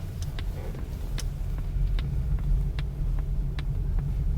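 A Polestar 2 electric car turning through a U-turn, heard from inside the cabin: a low, even road rumble with faint, regular ticking clicks and no engine roar.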